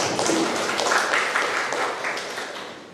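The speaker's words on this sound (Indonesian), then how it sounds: "Tepuk tangan untuk" A classroom of students claps for a classmate, a short burst of applause that starts loud and slowly thins out over about three seconds, with no talking.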